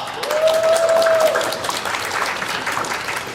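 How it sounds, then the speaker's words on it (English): A crowd at a fan festival closing ceremony applauds AMV contest winners, dense clapping across the hall with a sustained musical tone near the start that fades under it. "Give them a round of applause."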